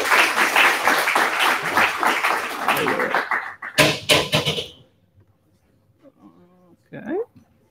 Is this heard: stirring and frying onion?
no